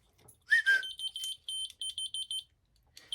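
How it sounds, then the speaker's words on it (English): A cheap key finder switched on answers with a rising whistle-like chirp, then a string of short, loud, high electronic beeps in quick bursts. "Key finder. Turn it on."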